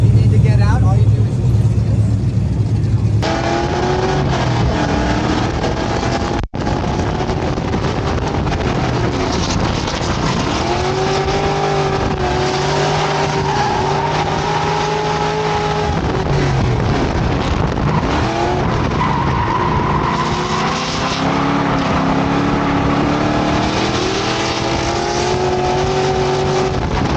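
Car ride-along at Texas Motor Speedway during Fuel Fest, loud engine droning and revving continuously with rising and falling pitch and wind buffeting, people talking over it.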